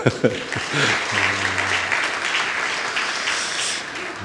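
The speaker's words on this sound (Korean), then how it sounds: "우리 박수로 한번 해주세요." Church congregation clapping during a Sunday worship service, a burst of applause that starts with a few sharp claps and settles into a steady wash, with a voice briefly heard early on.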